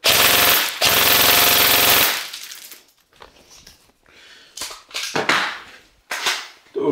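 A G&G M4 airsoft rifle fires a long, loud full-auto burst, pauses, then fires again before tapering into scattered clicks and rattles.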